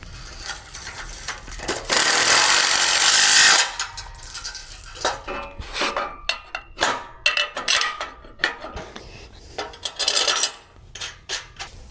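A nylon nut on a trailer frame is tightened with a 9/16 wrench and deep socket: a loud burst of rasping, grinding metal for over a second, followed by scattered ratchet clicks, taps and clinks up close.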